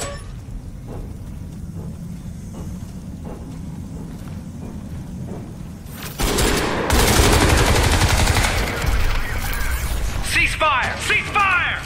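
Heavy gunfire in Crysis 3, sustained rapid automatic bursts with mechanical clatter, starting loud partway through after a quieter ambient stretch, with voices over radio and nearby.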